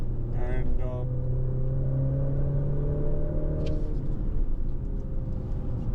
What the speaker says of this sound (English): It does sound good in certain RPM range, but not always. It is a good singing engine